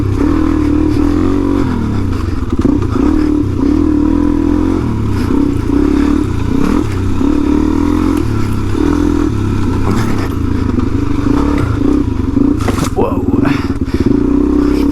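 A Suzuki DRZ 400e motorcycle ridden on dirt, its engine droning and revving close up with rattles and wind, while a rider talks over it.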